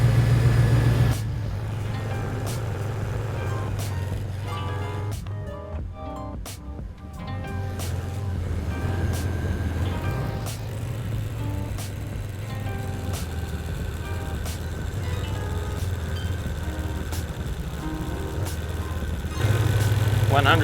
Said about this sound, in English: Away we go, engine is running and we're recording.